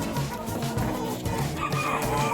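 Chickens, laying hens, clucking close by in repeated short bursts over a busy, noisy background.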